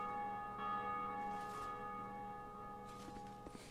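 Church bells toll in Dark Souls 2, a steady resonant ringing with sustained overtones that fades slowly, a fresh strike landing near the end.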